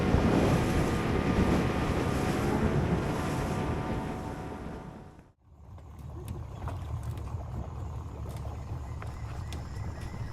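Wind roars loudly across the microphone on a boat ride to Sandoval Lake in the Amazon, cutting out briefly midway before returning as a softer rush with engine and water noise.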